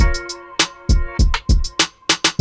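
Punchy electronic kick drums thump in a steady beat, layered with short tonal percussion hits and bright ticks, loud and close with no talking.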